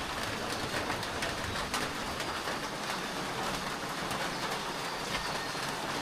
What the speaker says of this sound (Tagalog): Kaya lang umuulan din dito.